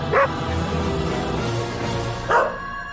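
Dogs in a home bark twice, one sharp bark near the start and another near the end, loud and close over a low steady background hum.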